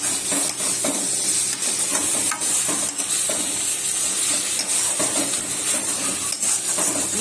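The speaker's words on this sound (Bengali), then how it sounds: "এই যে মশলা কষানো হচ্ছে, বাপরে কড়াই কাঠ হয়ে গেছে।" Spice paste frying in a wok while being stirred, a steady dense sizzle with scattered scraping strokes throughout, close and continuous with no talk.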